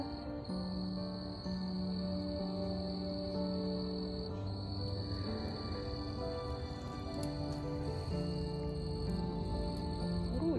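Crickets chirp on a calm evening in a garden, a continuous high trill layered with steady tonal insect hum, fairly loud and unbroken, alone without any talk.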